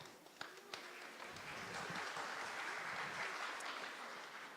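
Students applauding their parents at a middle school spring concert, a sustained, fairly distant round of clapping from a large group, with a few sharper claps at the start before it settles into an even roar.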